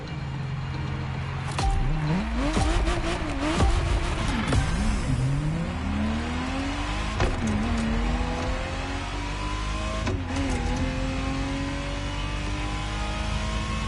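A Ferrari Testarossa's engine revs and climbs through gears in The Crew Motorfest racing game, rising and falling pitch sweeps with sharp shift breaks, loud and continuous with no voices.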